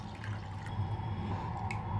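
Cool water is poured into masala buttermilk, producing a short, soft, steady liquid trickle with faint dripping, close and quiet, with no voices.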